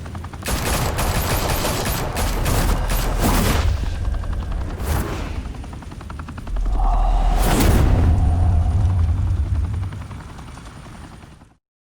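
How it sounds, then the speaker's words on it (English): Gunfire in the Batman Telltale video game: bursts of rapid automatic shots and crackling volleys over a heavy, sustained low rumble resembling a helicopter, loud and dense throughout before cutting off abruptly. "Open fire!"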